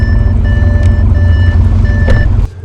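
Repeated electronic warning chime from an Audi RS6 with 700 hp, sounding steadily in a fast rhythm over a loud low cabin rumble, then cutting off near the end.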